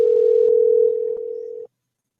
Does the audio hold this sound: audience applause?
no